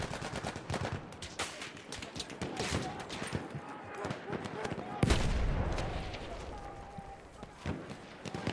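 Battlefield video game gunfire crackles in continuous rapid bursts, automatic weapons rattling over a busy battlefield din with a heavy boom midway, loud and dense throughout.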